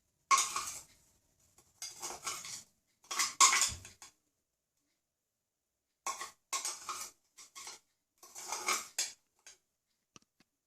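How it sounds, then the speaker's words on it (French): A spoon scrapes and clinks against a bowl in short bursts, separated by silent pauses, while blended Oreo cookie powder is spooned into a cupcake topping mixture; close and fairly quiet. "maintenant, j'incorpore 6 belles cuillères à soupe de poudre d'Oreo mixé"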